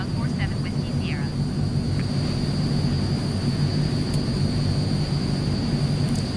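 An AzurPoly C-160 in Microsoft Flight Simulator taxis with a steady, loud engine drone and constant low rumble, a thin high tone riding over it throughout.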